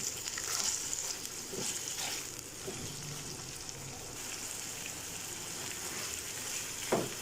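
Chicken pieces fry gently in a pan, giving a soft, even sizzle at low volume with a few faint knocks of a utensil scattered through.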